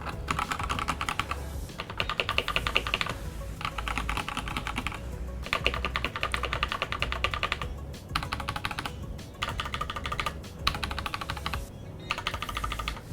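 A budget tenkeyless mechanical keyboard priced under $50 is typed on steadily, with dense, clacky keystrokes in fast bursts separated by short pauses, close and clear with no talking.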